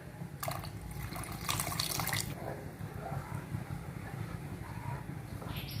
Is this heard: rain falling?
no